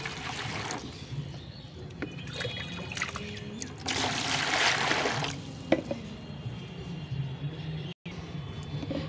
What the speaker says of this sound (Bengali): তো এই গামলায় আমি ভরপুর করে জল নেব।